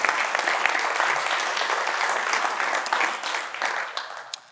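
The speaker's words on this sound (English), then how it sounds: "Now give the Lord a praise clap in this house." A church congregation breaks into loud, sustained applause for a praise clap, dense and even throughout before beginning to thin out at the end.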